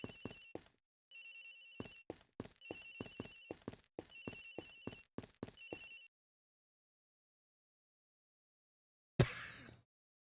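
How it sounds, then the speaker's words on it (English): A phone rings in the Ace Attorney Investigations video game with repeated bursts of electronic trilling separated by short gaps, then goes quiet before a brief noisy clatter near the end. "Agent X's phone, it's ringing from somewhere, sir."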